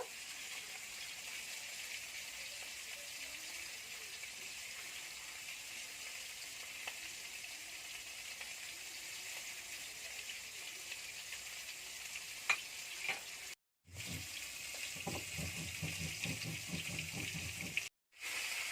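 Pangasius fish fillets sizzle steadily in hot oil, a dense even hiss that holds close and loud, broken by two brief silent gaps and a few low clatters near the end, with no voices.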